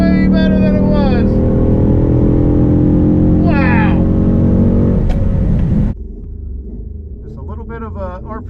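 A Chrysler 300 SRT8 with bolt-on modifications launches at high RPM, its engine roaring loud and close with rising pitch through the gears before dropping to a lower drone, while someone talks excitedly over it.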